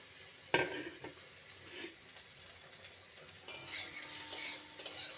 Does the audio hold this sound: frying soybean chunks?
yes